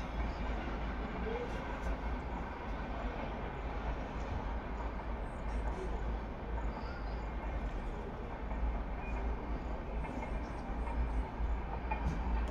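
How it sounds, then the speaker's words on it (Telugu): A train passes near a house, a steady rolling rumble with faint rhythmic clatter that stays at an even, moderate level for several seconds. "ట్రైన్ వెళ్తుంది చూడండి."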